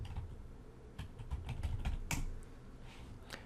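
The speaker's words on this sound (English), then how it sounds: "Let's just type in teamwork and see if that works." Computer keyboard typing as a search term is entered, a short run of light, irregular key clicks with brief gaps, close and quiet, with no voices.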